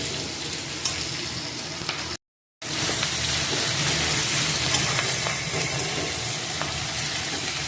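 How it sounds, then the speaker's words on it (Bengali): Onions sizzle steadily as they fry in a pan for a home-cooked chicken dish. The crackle is close and continuous, broken only by a split-second dropout near the start. "তা হালকা পেঁয়াজটা ভাজা দিয়েই হবে"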